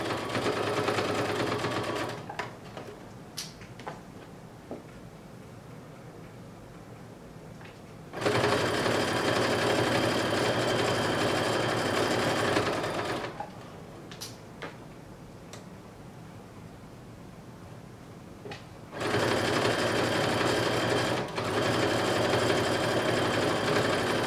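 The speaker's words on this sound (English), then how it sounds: "So let's sew one seam here." Sewing machine stitching a seam in blazer fabric with a basting stitch, a steady fast mechanical whir in two long close runs separated by quieter pauses with faint clicks.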